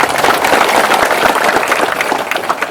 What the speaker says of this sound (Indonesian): Tidak berlebihan kalau kita kasih aplaus dengan Pak Surya